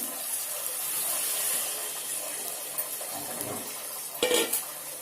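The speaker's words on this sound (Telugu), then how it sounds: "ఇప్పుడు చింతపండు పులుసు వేసుకోండి ఈ గిన్నెలో అంతా కొంచెం మసాలా ఉంది కదా దీంట్లో పోసాను" Tamarind juice pours into a pot of small-fish curry with spices, a soft continuous watery pour and gentle stirring, followed by a brief clatter near the end.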